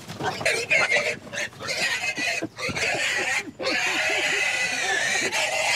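Piglets forage in a field on a 17th-century-style farm, grunting and oinking in quick repeated bursts close by, with some faint human chatter mixed in.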